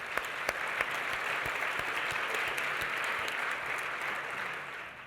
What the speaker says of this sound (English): Please give a round of applause to our panelists.